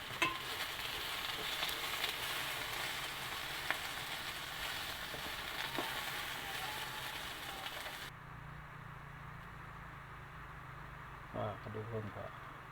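Food frying in a pan while being stirred, a steady close sizzle for most of the time that suddenly drops to a quieter hiss with a few scraping knocks near the end.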